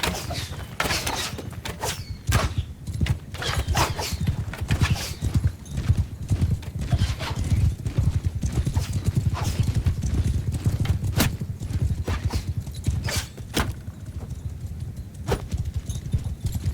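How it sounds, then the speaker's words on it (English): Rapid clip-clop of galloping horses in a medieval battle from the video game Mount & Blade Bannerlord, a dense, fast, continuous hoofbeat rhythm with occasional sharp thuds. "I can hear the horses approaching very fast"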